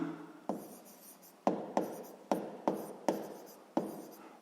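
Pen writing on paper while solving a sixth-grade math problem: a run of short, close scratching strokes, roughly eight separate bursts in an uneven rhythm, soft and alone without speech.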